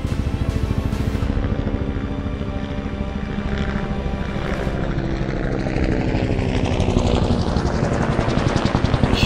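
A manned helicopter's rotor thumps loudly and steadily with a fast rhythmic chop while a small Chinese drone flies close by, its whine rising toward the end, with no voices.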